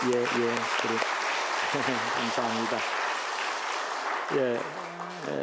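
A church congregation applauds in a steady broadband wash of clapping to welcome disabled guests while someone speaks over it, the clapping thinning slightly toward the end.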